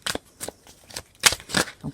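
Rider-Waite tarot cards riffle and slap in a few quick bursts of shuffling, ending with a card drawn from the deck, close and crisp with no voices.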